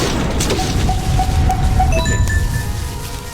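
A grenade explodes in the video game BK2 with a loud, full boom and bright ringing, clinking tones that trail off over a few seconds.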